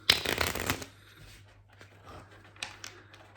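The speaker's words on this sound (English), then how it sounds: "what I'm going to get you to do is to shuffle the cards." A deck of playing cards riffled in a quick, loud burst, followed by quieter handling and a few soft card flicks against a low steady hum.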